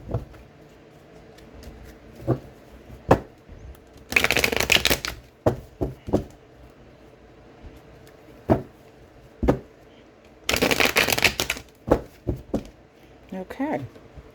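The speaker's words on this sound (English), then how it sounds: "just shuffle the cards a little bit for you" Tarot cards are riffled in two brisk, close shuffling bursts a few seconds apart, with soft card taps between and a person talking throughout.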